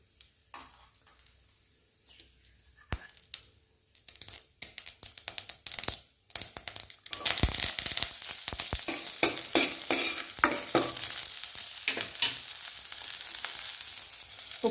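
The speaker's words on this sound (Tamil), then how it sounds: "ரசம் தாளித்து விட்டுக்கலாம்." Mustard seeds tempered in hot oil for rasam: a few sparse pops at first, then a dense, loud burst of spluttering crackles that continues steadily close to the microphone.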